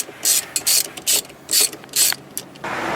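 Ratcheting clicks from a tool loosening the steering wheel screw on a Mercedes CLK W209/C209, heard as about seven close, crisp bursts in an irregular rhythm with short pauses between them and no talk.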